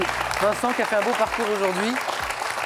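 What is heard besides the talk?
audience applause for quiz contestant Vincent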